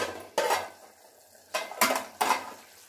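Pots, pans and a plate clattering in a home kitchen while chicken sukka is cooked, with several sharp metallic knocks and scrapes spread over a few seconds and no talking.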